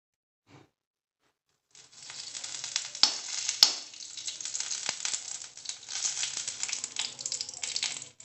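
Potatoes fry in ghee in an old, worn pan: after a short quiet moment a steady crackling sizzle starts and holds, with a few sharper pops rising out of it.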